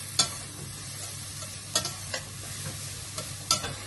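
Onions, leeks and carrots frying gently in melted butter in a pan, with a soft steady sizzle and periodic scraping stirs from a utensil, close and unaccompanied by talk.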